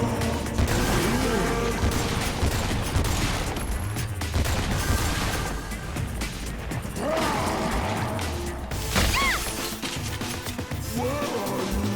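Gunfire aimed at zombies in the Xbox 360 game Lollipop Chainsaw: dense, continuous game action with repeated shots, impacts and crashes over a busy, loud mix of effects and music.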